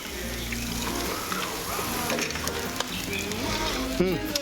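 A chokka squid steak sizzles in a hot pan, a steady close frying crackle with a few light clinks and splashy touches mixed in.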